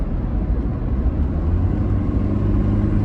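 Toyota Innova Reborn with a diesel engine and manual gearbox accelerating in third gear, a steady loud droning engine and road roar from inside the cabin, continuous with no talking.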